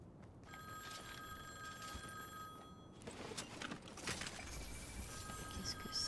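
A phone booth telephone rings in Fortnite season 8, a repeated electronic bell tone holding steady under busy game noise, with a louder burst of action midway.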